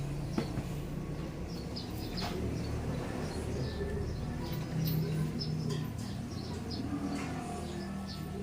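Racing pigeons coo softly at a loft over a steady low background hum, with faint chirps and rustles scattered through and no clear speech.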